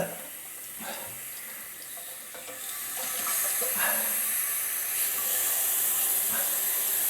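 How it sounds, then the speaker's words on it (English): Water jets hard from a Fluidmaster toilet fill valve under test, a steady loud hiss that swells partway through and then holds, sounding alone. "that water's just shooting down there"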